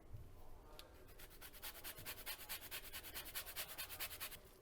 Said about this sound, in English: We're gonna add zest of 1 lemon.